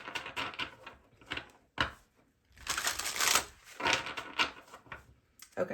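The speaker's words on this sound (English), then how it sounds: "Okay, a couple more good shuffles." Tarot cards being shuffled close up in repeated riffling bursts, crisp papery flutters with brief pauses between runs, no talking.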